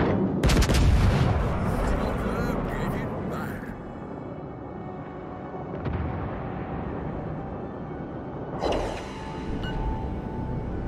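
Naval guns fire at a target in World of Warships: Legends, a loud booming blast opening the clip, then a rumbling battle bed with a second sharp report later, game voice lines talking over it.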